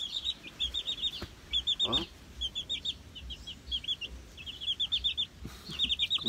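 Free-range chicks at a farm chirp in dense, repeated high peeps that come in quick bursts throughout, fairly close and lively, with a few faint clucks and low background rustle.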